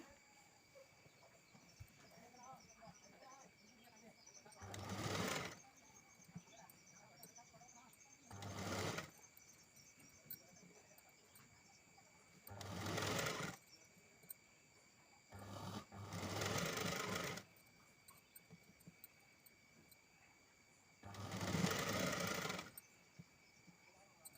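A sewing machine stitches a lined blouse in five separate bursts of rapid mechanical whirring, each a few seconds long, with quiet gaps and soft talking between them.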